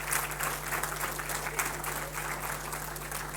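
Audience applause for the organizers at a talk, a steady wash of many hands clapping throughout, moderately distant and fairly quiet, with no speech.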